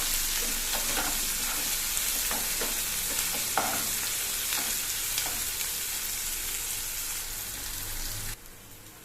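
Small onions sautéing in a pan for chicken chukka give a steady, close sizzle and frying hiss with occasional stirring clicks, running continuously and alone before easing off at the very end.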